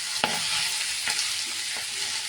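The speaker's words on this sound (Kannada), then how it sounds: "ಪಾಲಕ್ ಸೊಪ್ಪನ್ನ ಈ ರೀತಿಯಾಗಿ ಸ್ವಲ್ಪ ಕತ್ತರಿಸಿ ಬಿಸಿ ಮಾಡ್ಕೊತಾ ಇದ್ದೀನಿ." Chopped palak spinach sizzling and frying in a pan as it is stirred, a steady close hiss with faint scraping strokes, no voices.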